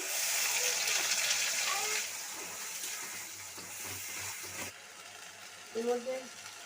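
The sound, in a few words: whole spices sizzling as they are tempered in hot oil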